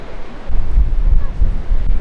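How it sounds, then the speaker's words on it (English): Gusty wind buffets the microphone in low, uneven rumbles on a nature walk near a lighthouse, rising and falling with no voices heard. "it's getting real windy because the sun's going down"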